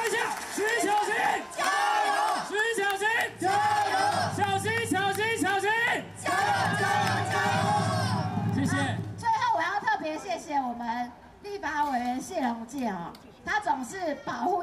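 A rally crowd chants a rhythmic cheer in repeated loud bursts, voices swelling together with whoops and yells before breaking into scattered shouts and chatter.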